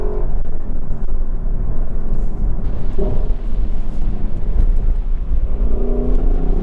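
A Lexus LC500 V8 driven hard in Sport Plus mode with stability control off during a handling test, its engine giving a loud, continuous roar that rises and falls with throttle, close and unbroken, with no talking.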